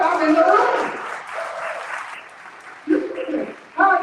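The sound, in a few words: audience applause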